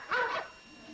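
A Cocker Spaniel gives a single short, nearby bark, moderately loud, with quiet room tone around it.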